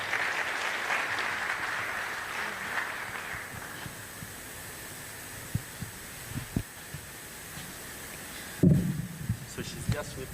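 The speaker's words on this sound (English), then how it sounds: "A round of applause for her" Audience applause at a memorial celebration of a life, moderate clapping that fades over the first few seconds, followed by quieter scattered thumps and a louder knock near the end.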